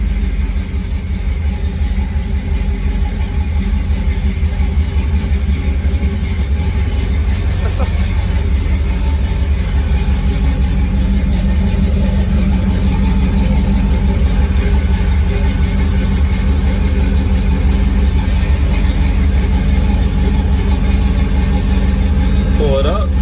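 Steady engine drone from a 2013 Subaru WRX running at low speed, a constant close rumble throughout with a voice talking over it.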